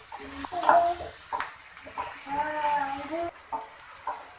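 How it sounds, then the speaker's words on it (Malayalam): Onions and salt stirred in a pan on the stove for a Kerala-style squid roast, with soft scraping and clinks of a spoon against the pan under a steady sizzle, while a person talks. "ചേർത്ത് നന്നായിട്ട് ഇങ്ങനെ ഇളക്കിക്കൊണ്ടിരിക്കുകയാണ്"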